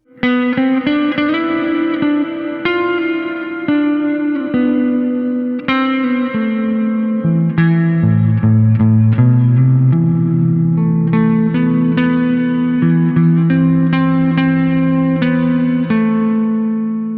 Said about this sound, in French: Arena Reverb.